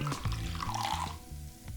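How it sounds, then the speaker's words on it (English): Water poured bit by bit into a bowl of brown bread flour and seeds, a close, soft liquid trickle over faint background noise. "and then now I can add the water."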